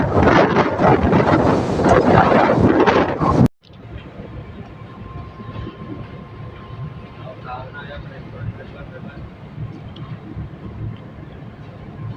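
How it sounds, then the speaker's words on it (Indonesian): Steady wind rumbling and buffeting on a ferry deck over a constant low engine drone, following a brief loud burst at the start, with no one speaking. "Ini anginnya ini guys. Anginnya ini ada di kapal laut ini guys."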